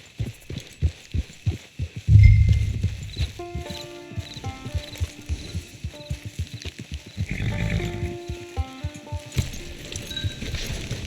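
Horse hooves clip-clop in the video game Red Dead Online, a steady rhythmic trot of distinct hoofbeats, joined by musical notes and a brief snort or whinny.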